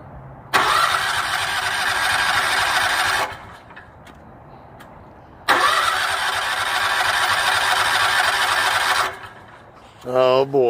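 A Scag mower engine is cranked with the choke on in two long, loud grinding starter bursts separated by a short pause, followed by a brief sputter at the end.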